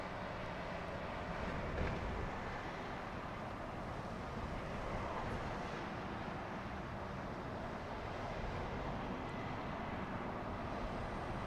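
A Middle East Airways A321neo arriving at Heathrow from Beirut produces a steady, distant broadband jet roar that stays even and moderate for the whole stretch, with no voices over it.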